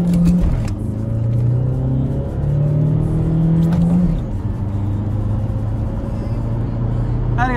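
A Skoda Superb 1.6 TDI diesel pulls hard away from a standstill, its engine note climbing loudly, dropping at a gear change, then rising again. The sound is steady and close, with no talk over it.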